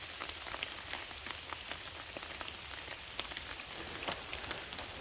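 Small hail pelts down on a summer mountain trail while descending Pitcher Mountain, a dense, even patter of tiny ice bits with sharper individual ticks throughout, close and continuous with no talk.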